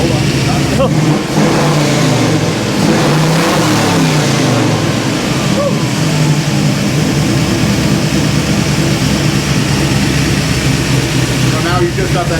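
Expertly tuned small block V8 hot rod idling a little over 800 rpm, a loud, close, lumpy rumble with a choppy beat, running continuously while people talk nearby.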